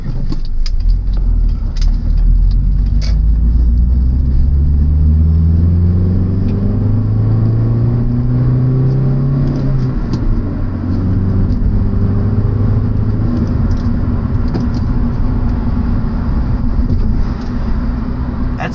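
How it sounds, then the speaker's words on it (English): A car engine revs up and settles during a manual rev-match downshift, rising and falling pitch sweeps over a steady loud drone, close and continuous without speech. "That's how I rev match downshift."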